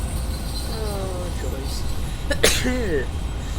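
A single sharp sneeze bursts out over the steady rumble of a train simulator's locomotive running on Sandpatch Grade in a Santa Fe scheme, briefly loud and close, with talking around it.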